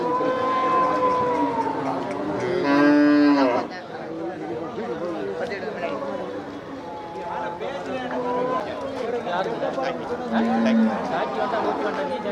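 Cattle at the Melapalayam cattle market give one long, loud moo, with fainter lowing later on, all under constant crowd chatter and people talking nearby.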